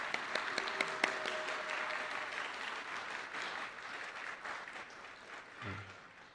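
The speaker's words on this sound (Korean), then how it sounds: "우리 간사님들께 한번 박수 한번." Congregation applauding the training staff at a Korean church commissioning service: dense, steady clapping from many hands that starts with a few sharp claps and holds throughout, with faint voices underneath.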